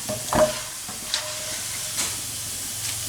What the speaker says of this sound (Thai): ตักเขาใส่กระชอนเลย เพื่อให้น้ำมันเขาเสด็จนะคะ